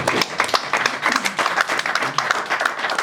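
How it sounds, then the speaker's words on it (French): A church congregation at a French-language Sunday service applauds, steady dense clapping filling the space for a few seconds, with voices faintly mixed in beneath. "Est-ce qu'on peut acclamer pour le Seigneur?"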